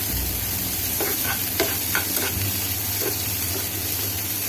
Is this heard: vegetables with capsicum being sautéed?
yes